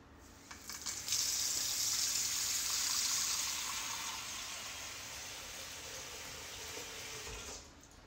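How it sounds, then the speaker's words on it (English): Water streams from a tap onto a deep plate in one continuous gush lasting several seconds, close and fairly loud, then easing off, with no voices. "So let me just put water on a deep plate here."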